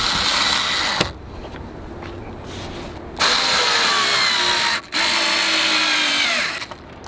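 A power drill drives screws into a chicken coop under construction, whining loudly in long bursts with short pauses between them and pitch bending as each screw seats, close up and mostly without talk.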